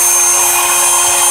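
A CNC machine running a 0.77 mm milling cutter to drill a small hole in an injection mold, giving a loud, continuous high-pitched whine with a steady hum and no pauses, close up and with no talking.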